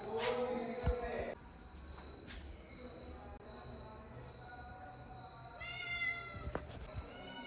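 A cat at home gives a couple of faint meows, one near the start and a softer one later, over a quiet room background with light clatter.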